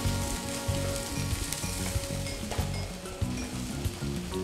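Linguiça sausages brown in a hot pan with basil nearby, giving a soft, steady crackling sizzle broken by faint rhythmic knocks from the pan, with no talking.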